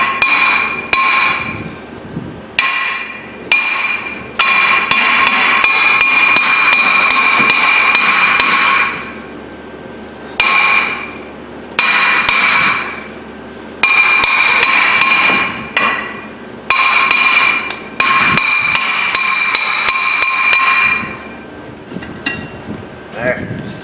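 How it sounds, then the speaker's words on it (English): A hammer strikes a Ford Fusion front brake hub in repeated bursts of loud, ringing metallic blows, with short pauses between rapid flurries of hits; talk is heard in the clip. "we're gonna have to get a hammer and get a little mean to it"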